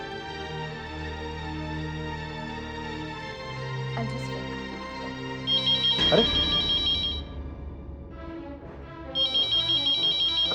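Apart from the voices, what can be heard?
mobile phone ringing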